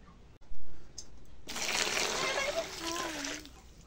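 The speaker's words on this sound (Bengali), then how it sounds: "খাবারের সাথে দিয়ে হালকা একটা পানি দিয়ে দিব" Water is poured onto cattle feed mixed with two Metro tablets, giving a close, splashing, trickling pour that lasts a couple of seconds after a sharp knock.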